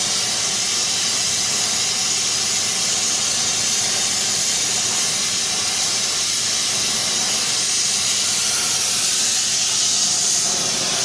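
Glassworking torch roaring while melting glass on a custom green stardust pipe, a loud, constant hissing rush of flame that stays steady throughout without breaks or voices.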